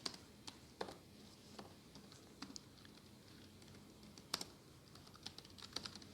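Scattered keystrokes on a computer keyboard, close and fairly quiet, tapping out irregularly in short bursts with a faint room hum beneath and no talking.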